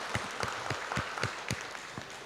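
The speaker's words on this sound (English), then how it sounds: "please join me in giving highest applause to these two distinguished speakers" A small conference audience applauds two speakers with sparse, distinct claps in a loose steady rhythm, fairly quiet and alone.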